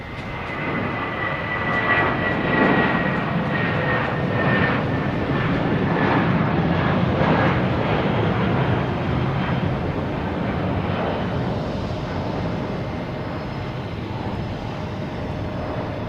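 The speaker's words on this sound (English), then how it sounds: "we have JetBlue heading to JFK and A320." A JetBlue Airbus A320 jet departs Boston Logan Airport, its loud, broad engine roar rumbling steadily for the whole stretch before easing slightly toward the end, with no talk over it.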